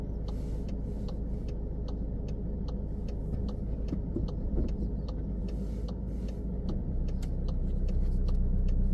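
A car pulls away during a mock UK driving test on the Wanstead test route, its engine humming steadily inside the cabin while an indicator ticks in an even rhythm throughout.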